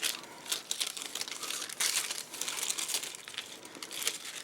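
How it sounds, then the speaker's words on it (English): Wax paper is peeled away from an intricate cutting die, making close, continuous crinkling and crumpling with sharper crackles scattered throughout and no talking. "Then you're going to take away your wax paper."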